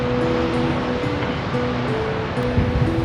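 Turbulent ocean waves wash continuously below the Ballycotton cliffs, a steady broadband roar of surf with wind buffeting the microphone, no voices present.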